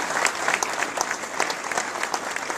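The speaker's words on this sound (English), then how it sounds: "let's give them another round of applause" Audience applause at a NASA agency awards ceremony, brisk dense clapping from a room of families and supporters, steady for a few seconds.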